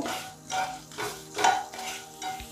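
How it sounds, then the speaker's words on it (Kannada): Dry red chillies and curry leaves frying in coconut oil give a close, steady sizzle, broken by a few louder stirring scrapes against the pan and no talk. "ಇದಕ್ಕೆ ಇವಾಗ ಮೂರು ಒಣಮೆಣಸನ್ನು ಹಾಕ್ತಾ ಇದ್ದೀನಿ ರೆಡ್ ಚಿಲ್ಲಿ ಹಾಗೆ ಒಂದು ಸ್ವಲ್ಪ ಕರಿಬೇವಿನ ಸೊಪ್ಪನ್ನು ಹಾಕ್ತಾ ಇದ್ದೀನಿ ಇದನ್ನ ಚೆನ್ನಾಗಿ ಫ್ರೈ ಮಾಡ್ಕೊಳ್ಬೇಕು"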